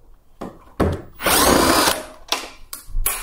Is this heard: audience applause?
no